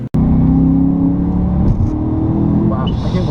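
Supercharged BMW M3 E92 engine droning steadily as the throttle lifts, its note dipping and flickering off-gas under a continuous loud road rumble, with a voice heard over it.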